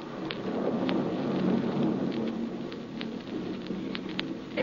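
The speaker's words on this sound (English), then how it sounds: "the storm is stopping." Thunderstorm sound effect for a radio horror drama: steady heavy rain hiss with low rumbling thunder and scattered sharp crackles, continuous and fairly loud throughout, no voices.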